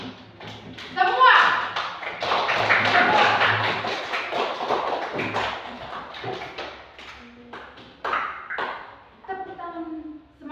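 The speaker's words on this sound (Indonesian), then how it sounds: "Tepuk tangan semangat." A group of schoolchildren claps along in a rhythmic cheer, a dense run of tapping hand claps under a voice and the children's chatter, then a few scattered claps toward the end.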